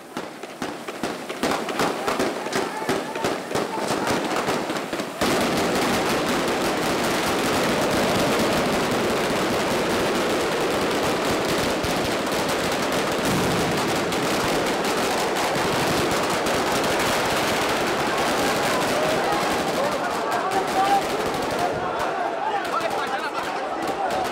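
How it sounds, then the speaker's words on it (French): Lebanese army soldiers fire into the air to break up a crowd at a funeral procession, a loud continuous burst of gunfire and crackling shots that goes on without a break, with commotion mixed underneath. "L'armée libanaise débordée intervient par des tirs en l'air."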